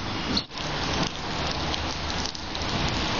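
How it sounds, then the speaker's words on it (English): Steady rain falls continuously, a dense hiss of drops close by with no pauses and no voices. "I'm going to wait out the rain to see if it stops raining."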